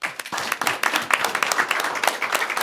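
A board of education meeting audience gives outstanding educators a round of applause, with a dense, moderately loud clatter of many hands clapping for a few seconds.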